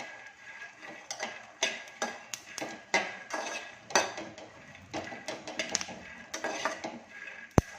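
Peanuts roast in a pan over slow heat, stirred with a utensil that scrapes and clinks against the metal in irregular taps and short rattles, close and fairly busy, with no talking.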